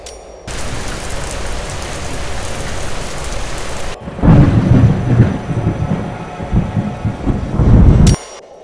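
Heavy rain pours steadily with loud rumbling thunder building partway through, a dark stormy-night ambience for a horror story, with no voices.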